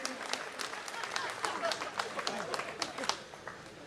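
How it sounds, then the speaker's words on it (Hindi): An audience at a Hindi kavi sammelan poetry event gives faint, scattered applause, individual sharp claps popping through quiet crowd murmur. "आप जोरदार तालियां बजाइए हिरण्यकश्यप की नगरी से।"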